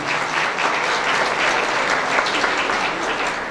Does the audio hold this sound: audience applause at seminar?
yes